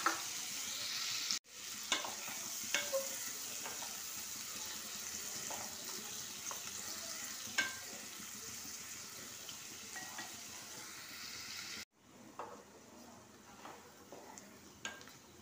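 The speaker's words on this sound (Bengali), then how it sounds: "Vegetable oil. গরম হয়ে গেছে। বড় সাইজের 2টো পেঁয়াজ আমি দিয়ে দিলাম।" Two large onions frying in hot vegetable oil, a steady loud sizzle with occasional stirring clinks, continuous apart from two brief breaks.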